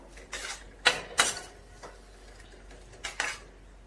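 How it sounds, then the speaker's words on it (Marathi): A utensil scrapes and knocks against a pan while stirring a gram flour (besan) mixture, a few uneven strokes, close by, with quiet gaps between them. "यामध्ये आता हे जे बेसन पिठाचं मिश्रण बनवलेलं ते टाकायचं. व्यवस्थित असं मिक्स करून घ्यायचं."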